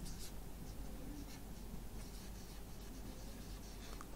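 Pen or marker scratching across a board or page during a school math lecture, a faint, continuous writing scrape with soft strokes under low room noise.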